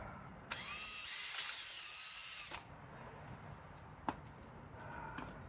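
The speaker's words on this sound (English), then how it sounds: "we can use power tools." A power tool drills during maintenance work near lead battery parts, a loud high whine running for about two seconds before cutting out, followed by a few faint clicks and knocks.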